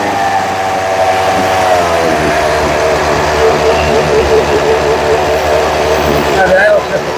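A Craftsman chainsaw engine runs steadily at a high, buzzing pitch after its carburetor was adjusted, loud and close throughout, with a voice speaking faintly over it.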